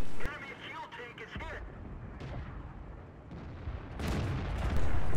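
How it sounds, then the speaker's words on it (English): Tank cannon fire aimed at the rear of a Panther tank in a Stalingrad-set World War II video game, heavy booming blasts and rumbling battle noise at close range, swelling louder toward the end, with a voice talking over it. "Get to shoot into the back of this Panther."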